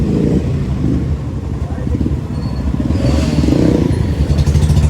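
A motorcycle revving near and loud in a stuck traffic jam, its engine drone and rattle steady throughout amid surrounding vehicle noise, with voices talking over it.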